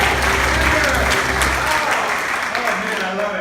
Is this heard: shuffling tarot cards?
no